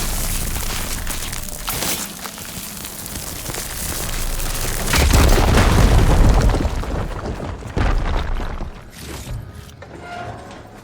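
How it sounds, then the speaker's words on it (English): In the video game Horizon Forbidden West, an igniter sets off a firegleam deposit, giving a loud, close booming blast with crackling debris and a rumbling tail that fades near the end. "Now that I have the igniter, I can get rid of that fire gleam."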